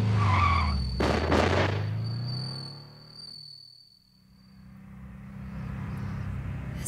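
A car for a crime radio drama set in Sicily roars up close as its engine revs and pulls away, the sound dipping and then giving way to a steady engine drone, with crickets chirping throughout.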